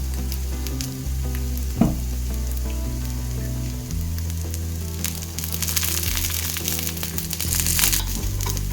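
Kuzhi paniyaram frying in oil in a nonstick paniyaram pan, a steady sizzle with a brief crack near two seconds, growing denser and brighter toward the end, no voices.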